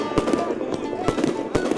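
New Year's fireworks over Kiruna, several sharp bangs and crackling bursts at irregular intervals against a steady background hiss, with people talking and exclaiming nearby.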